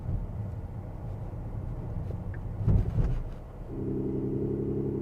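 A simulated V6 engine note plays inside an AVATR 11 electric car, a low rumble that rises in a brief rev and then settles into a steady, even hum with no talk.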